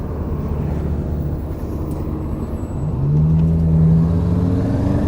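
A car engine rumbles and whirs nearby, then swells in a steady rising acceleration in the second half, with no talk over it.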